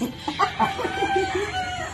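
Chickens clucking and calling nearby, a few short rising squawks over a steady farmyard background with faint murmuring.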